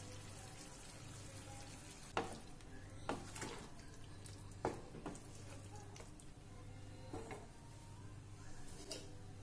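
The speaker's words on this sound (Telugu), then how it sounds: "ఈ మసాలాలన్నీ కొంచెం ఫ్రై అయ్యే వరకు వేయించుకోవాలి" Spice masala frying in a kadai for kadai chicken gives a faint, steady crackling sizzle, broken by a few sharp scrapes of a spoon against the pan.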